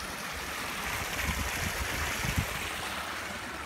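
Water trickling steadily from an aquaponics grow bed into a small pond waterfall outdoors, a continuous gentle splashing flow with a few slightly louder spatters, no voices.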